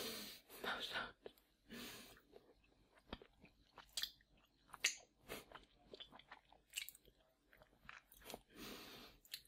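Sour Fizzy Fangs candy being chewed close to the mouth, wet crunching and smacking bursts mixed with breathy whispering and small breaths.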